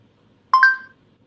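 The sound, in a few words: voice control app ping before recording message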